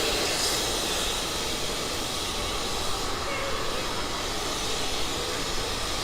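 Steam vents from a Con Edison street steam system on the corner of Broadway and Wall Street in New York City, a loud, steady, unbroken hiss filling the whole stretch.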